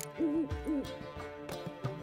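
An owl-like bird hoots in The Witcher 3 video game, giving two clear warbling hoots in close succession, followed by softer game ambience and a few faint thuds.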